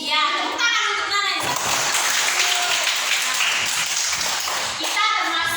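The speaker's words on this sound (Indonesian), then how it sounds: "tepuk tangan untuk Nana" Children clap together in an elementary school classroom during a teaching session, a steady burst of applause with kids' voices mixed in, while an adult teacher speaks before and after.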